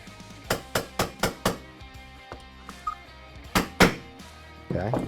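Hammer striking a punch to drive pins flush in an IWI X95 9mm rifle: a quick run of four close metallic taps, scattered lighter knocks, then two louder blows and some handling noise.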